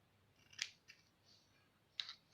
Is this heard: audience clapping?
no